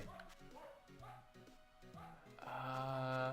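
A small dog barking in a Game Boy Advance game, a few short chiptune-style yaps repeating at a steady pace before a brighter jingle takes over at the end.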